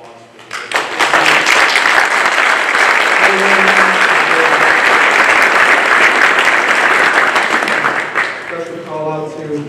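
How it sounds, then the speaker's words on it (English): Loud, dense applause from an audience at a US Army Corps of Engineers Philadelphia District change of command ceremony honors the district staff, swelling in quickly, holding steady for several seconds, then thinning out at the end. "give them a round of applause"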